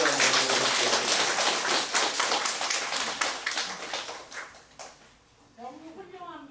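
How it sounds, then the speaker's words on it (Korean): A church congregation claps together during a Sunday worship service, a run of sharp, rapid hand claps that thins out and fades, followed by a voice speaking near the end. "우리 박수 한번 해주세요"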